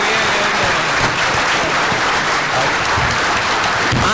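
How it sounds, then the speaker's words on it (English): A large forum audience gives a loud, sustained round of applause, a dense, even wash of many hands clapping for the full few seconds with no break. "I would ask you to please give them a large round of applause"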